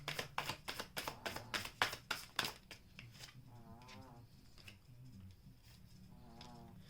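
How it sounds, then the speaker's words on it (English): Rapid rhythmic riffling of tarot cards being shuffled, about a dozen quick flicks, then softer handling and faint background sounds. "One more shuffle."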